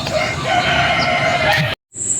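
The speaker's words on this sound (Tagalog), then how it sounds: "Ang tandang, sila yung malalakas tumilaok" Roosters crowing on a hog and chicken farm, a loud close crow stretched over more than a second amid clucking, then a brief silence before another call starts.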